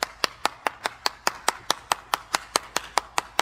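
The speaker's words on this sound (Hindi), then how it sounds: "बिल्कुल तालियां आपके पूर्वजों के लिए।" Steady, evenly spaced claps, about four per second, sharp and close, like an audience clapping together in rhythm with a low murmur beneath.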